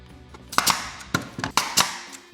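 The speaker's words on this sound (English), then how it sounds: "shoot a couple brad nails through this outside" A brad nailer fires brad nails into the sides of wooden arms for a small Christmas snowflake project, making several sharp, close pneumatic snaps in an uneven rhythm with no talking.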